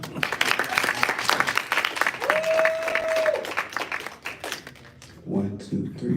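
An audience at a dinner event claps for a presenter, bursts of applause mixed with cheering and voices talking over it, thinning out toward the end.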